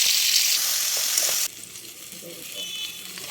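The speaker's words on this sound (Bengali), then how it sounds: "এরপরে আমি টমেটোগুলো এর মধ্যে দিয়ে নেব আর একটুখানি হলুদ ও নুনও দিয়ে দেবো।" Tomatoes frying in hot oil with dried chilli and five-spice for tomato chutney, a steady loud sizzle that eases slightly halfway through as ingredients settle in the pan.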